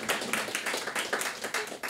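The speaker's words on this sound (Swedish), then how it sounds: "En applåd" A small audience claps in a loose, fairly even rhythm, moderately close and fairly quiet, with individual hand claps distinct and no talking.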